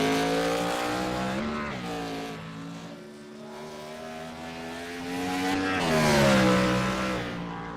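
A race car at Sonoma works through the hairpin under power, its engine rising and falling in pitch through gear changes as it passes, loud and fairly close, with no talking.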